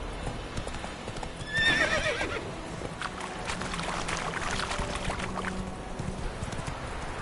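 A horse in The Witcher video game whinnies once, close and clear, just after the start, over ongoing hoof clip-clop and a steady outdoor background hum.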